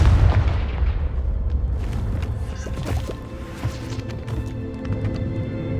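A Confringo blasting curse explodes in Hogwarts Legacy, a loud booming blast at the start followed by a rumbling decay and scattered crackling impacts, with a steady game background underneath.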